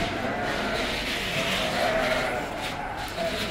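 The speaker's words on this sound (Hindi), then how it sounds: "ये दुम्बा है, ये बकरे हैं" Dumba sheep and goats bleat at the Madina livestock market in Saudi Arabia, their calls blending into a constant, loud din of crowded animals and open-air market noise.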